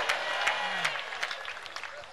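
Church congregation clapping at a healing service, a fairly quiet, uneven spatter of hands with sharper individual claps and a faint voice underneath.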